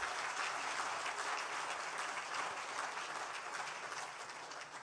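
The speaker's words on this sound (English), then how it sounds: "let's all give her a round of applause" An audience at a dinner event gives sustained applause, a thick, even roar of many hands clapping in a large room that gradually tapers off at the end.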